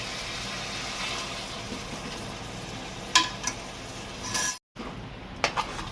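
Chicken frying in a pan with onion and ginger garlic paste, a soft continuous sizzle with a few scraping stirs and clicks near the end.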